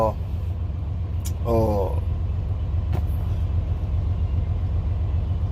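A steady low engine rumble idles close by throughout, with a brief voice cutting in partway through.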